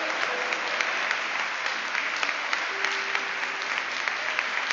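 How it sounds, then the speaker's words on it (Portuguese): A church congregation claps hard together, an even, fairly distant wash of many hands that holds steady throughout with a faint tone underneath. "Aplaude bem forte aí, igreja"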